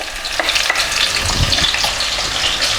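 Onions frying in about a quarter cup of hot olive oil in a pan for Lebanese mujaddara, a dense steady sizzle and crackle with a few stirring clatters, close and fairly loud with no talking.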